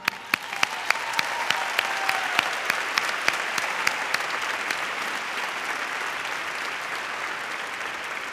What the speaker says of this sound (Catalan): Si us plau, un aplaudiment.